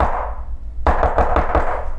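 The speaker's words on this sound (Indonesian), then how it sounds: "Suara ketukan itu semakin lama semakin terdengar kencang, seolah-olah orang atau sosok yang di belakang pintu ini mengetuk pintu dengan emosi." Loud, heavy knocks strike a door in a rapid series of four or five blows after a stretch of low rumbling, close and forceful.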